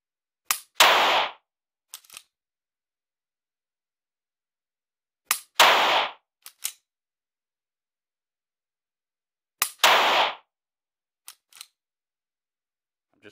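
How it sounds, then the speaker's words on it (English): A striker-fired laser training pistol dry-fires in three evenly spaced bursts, each a sharp trigger snap followed by quieter reset clicks, crisp and close against silence. "I'm just pulling just enough to reset the trigger"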